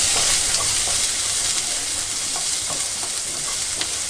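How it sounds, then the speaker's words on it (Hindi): Onion, green chili and ginger sauté over high flame in a pan, a loud continuous sizzle with occasional stirring scrapes, close and steady with no talking. "2 मिनट इसको सौते कर लीजिए।"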